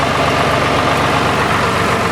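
A tractor that is high-centered on a sizable fallen log while mowing trails idles with a loud, steady, low engine drone, continuous and unbroken, close by and with no talking.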